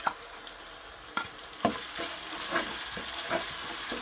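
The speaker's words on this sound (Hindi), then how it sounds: "अब इसमें हम अदरक और लहसुन का पेस्ट ऐड करेंगे।" Ginger garlic paste hits light-browned onions in a hot pot over high heat, sizzling steadily while a spoon stirs and scrapes with several sharp clanks, no talking.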